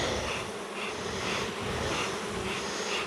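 Honey bees swarm over fondant and comb in a dense, continuous buzz, close and steady with soft swells, no voices present.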